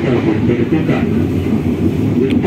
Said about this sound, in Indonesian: bentar lagi kereta api Ranggajati akan sampai di stasiun Purwokerto